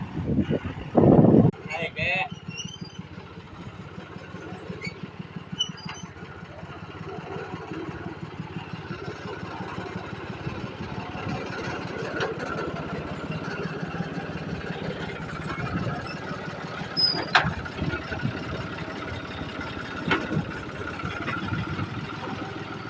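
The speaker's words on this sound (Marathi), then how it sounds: "मग काय लगेच चालू केला ट्रॅक्टर" A tractor engine idles steadily at a low rumble throughout in a cattle shed, with a loud knock near the start and someone speaking over it at times.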